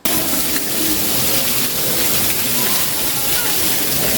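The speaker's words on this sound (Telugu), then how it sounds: "వర్షం అయితే చాలా భయంకరంగా పడుతుంది." Heavy rain falls in a steady, dense, loud roar that runs without a break through the whole stretch, close and washing over everything, with no talking heard.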